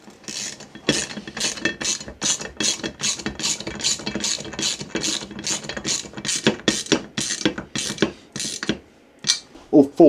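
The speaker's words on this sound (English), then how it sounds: "it shouldn't take long just to bolt these all into place" Ratchet wrench bolting mobile base brackets into place, giving rapid, steady clicking strokes in repeated bursts close up through most of the stretch, with a brief pause near the end.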